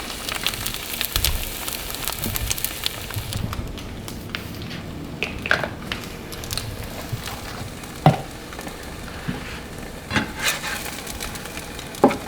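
An egg fries over medium heat in a pan for a bodybuilding breakfast, giving a soft, steady sizzle with occasional sharper pops and light kitchen clatter.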